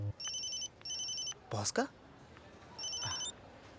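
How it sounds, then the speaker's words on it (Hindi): A telephone bell rings in a South Indian movie dubbed into Hindi, three electronic bursts in a repeating pattern with a brief pause between, while someone speaks between the rings. "अबे किसका फोन है?"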